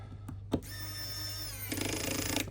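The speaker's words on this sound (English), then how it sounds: "That's the last screw secured down." A small power screwdriver drives the last screw into a Samsung Galaxy S20, a close whirring motor hum with a couple of clicks at the start and a rougher buzz near the end.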